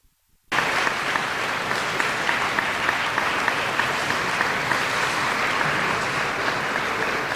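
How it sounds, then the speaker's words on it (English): Sustained applause from a conference audience at a student health leadership event, starting abruptly after a brief silence and holding steady and loud to the end. "another round of applause and your sponsors"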